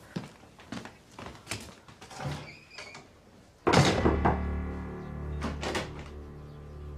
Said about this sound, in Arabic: اقفل الباب وراك وادخل